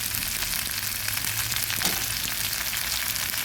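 Eggplant pieces added to hot oil in a pan already frying ginger and garlic give a dense, continuous hiss of sizzling, close and steady, with no voices over it.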